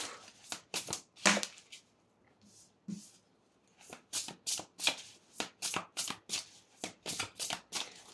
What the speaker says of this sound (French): on commence avec un message canalisé avec le tarot et on tirera des petites cartes oracles pour préciser le tout